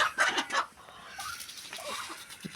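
Hens clucking around a village coop at evening feeding time, a few close bursts of clucking followed by softer, scattered calls under a general farmyard hum.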